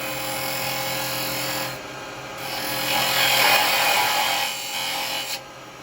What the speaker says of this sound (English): Now I'm just going to use the spindle gouge to do this